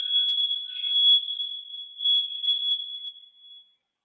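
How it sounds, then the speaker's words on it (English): An alarm beeps over and over in a steady high electronic tone, pulsing loud and near, then cuts off into silence. "that alarm that keeps beeping"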